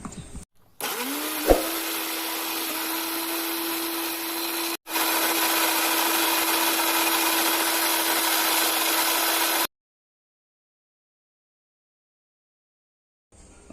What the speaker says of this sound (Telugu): ఇవన్నీ ఒకసారి మిక్సీ పట్టుకుందాం.